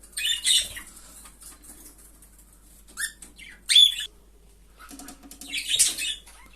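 Caged birds tap and peck at the cage wires, nest box and feeder in short scattered bursts of sharp clicks and rustling flutter, close by, with faint chirps between and long quiet gaps.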